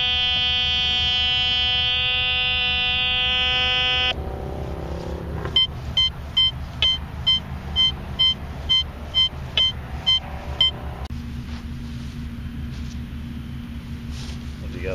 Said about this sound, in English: Got a signal here. It's a little bit deeper signal. It's trying to stay in the high tone area.